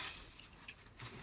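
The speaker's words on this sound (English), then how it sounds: "Give it a spray." A spray can hisses briefly onto scroll chuck parts during chuck maintenance, a soft short burst that fades and then gives a second faint puff.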